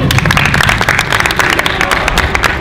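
Applause from a small group greets a selected football player, dense steady clapping filling the whole moment, loud and close with no talk over it.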